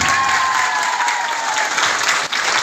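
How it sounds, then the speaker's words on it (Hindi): Loud, sustained applause from a seminar audience at an Ayurveda training event, dense clapping filling the whole stretch with a brief dip near the end and no talk over it. "इन लोगों के लिए एक बार जोरदार ताली हो जाए।"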